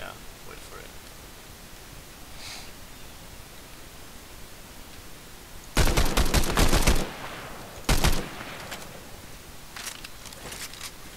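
Bursts of rapid gunfire in a Fortnite match, a long loud volley followed by a shorter one, set against steady background hiss with players talking.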